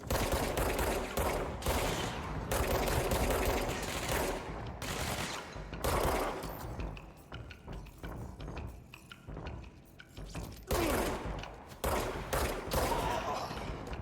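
Dense, sustained gunfire from the video game Control, with rapid bursts of shots stacking into near-continuous volleys for the whole stretch, loud and close, only a few brief dips between barrages.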